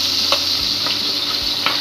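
Broiler chicken pieces finishing in a hot pan give a constant close sizzle, with a few soft taps of a spatula over the short span.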